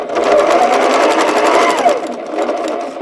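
Sewing machine running steadily for about three seconds while stitching pieced quilt fabric at an interlocking seam, a loud close whirring hum with a fast even needle rhythm that eases slightly near the end.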